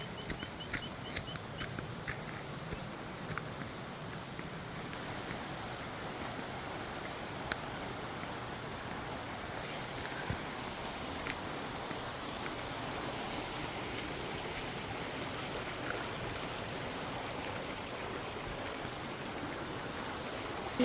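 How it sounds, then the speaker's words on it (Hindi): A mountain stream, a small nala in Chakrata near Dehradun, Uttarakhand, rushes steadily with a dense, even wash of flowing water. It runs on throughout without a break, with a few faint clicks near the start and no speech over it. "वही नाला जो है यहाँ भी आ रहा है। पानी का एक अच्छा स्रोत है"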